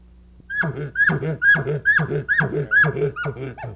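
A series of seven high, squealing calls with a rough, nasal edge, repeated in quick rhythm at close range, imitating a young bull elk's squeal.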